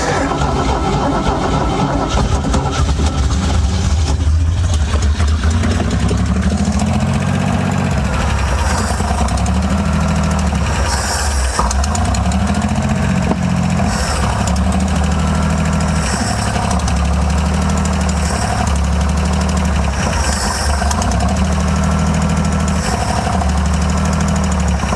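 A 1969 Spartan 155 hp boat engine with electric shift starts up after 25 years idle, running loud and steady with a low, thumping idle rhythm and some knocking throughout.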